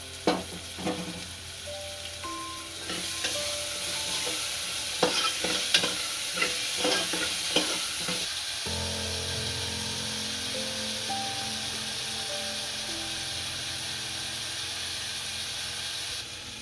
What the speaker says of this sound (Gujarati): આ કાંદા નાખશું ઝીણા સમારેલા. કાંદાને છડવા દઈશું.